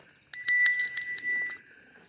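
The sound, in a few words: hand bell ringing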